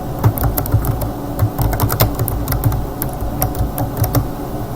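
Someone types a name on a computer keyboard, with quick, irregular clusters of key clicks, close and clear against a quiet room, and no voices.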